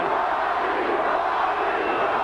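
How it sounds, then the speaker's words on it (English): A boxing arena crowd roars steadily for Johnny Tapia, a dense, loud wall of cheering that holds without a break. "Crowd getting behind."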